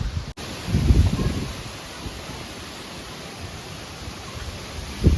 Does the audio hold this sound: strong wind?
yes